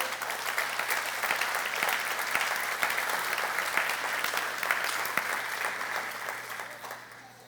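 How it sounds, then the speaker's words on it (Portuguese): A crowd at a church service claps steadily for several seconds, a dense even patter of many hands that fades slightly at the end. "Essas palmas foram um pouco mais difíceis, eu entendo."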